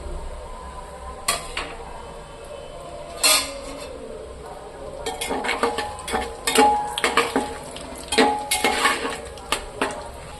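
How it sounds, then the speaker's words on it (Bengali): Cardamom pods, a piece of black cardamom, whole chillies, cumin, two bay leaves and mace hit hot oil in a pan for chicken biryani. A light sizzle runs under sharp spoon clinks and scraping stirs against the metal pan. "একটা বড় এলাচের টুকরো মরিচ গোটা জিরে দুটো তেজপাতা আর এটা জায়িত্রি এগুলো আমি সব তেলের মধ্যে তুলে দিচ্ছি"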